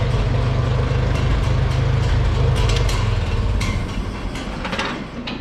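An International W450 antique gas tractor engine runs at idle, a steady low rumble close by that eases slightly toward the end, with scattered clanks and knocks.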